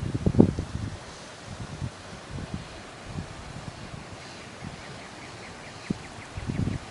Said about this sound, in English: I just want you to hear the wind.